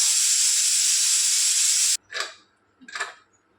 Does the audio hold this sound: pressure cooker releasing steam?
yes